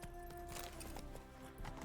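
Quick clip-clop of horse hooves trotting on hard ground in The Witcher 3: Hearts of Stone, steady and fairly close, with faint background ambience.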